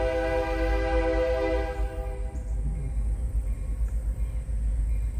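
Florida Gulf and Atlantic freight train, painted red, white and blue, sounds a loud sustained horn blast that cuts off after about two seconds, followed by the continuous heavy rumble of rail cars rolling past nearby.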